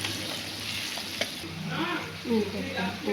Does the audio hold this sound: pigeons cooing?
no